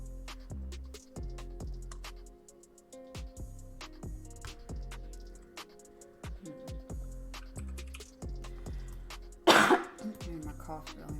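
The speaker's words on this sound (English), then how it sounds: "My cough really messed up." Repeated coughing and throat clearing near the microphone, with harsh bursts and a louder cough near the end, while a voice talks intermittently.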